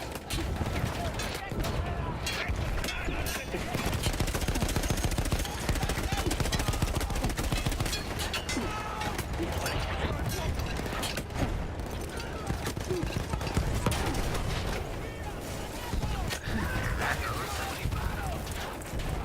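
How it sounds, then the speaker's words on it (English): Enemy gunfire in a Battlefield 1 campaign battle: dense, continuous rattling shots and crackling bursts, loud and close, with a voice talking over it throughout. "Where are they still firing from?"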